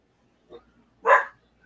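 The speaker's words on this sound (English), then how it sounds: "Dogs in the background." A dog gives a couple of short barks in the background, one faint yip followed by a louder single bark, distant and otherwise quiet.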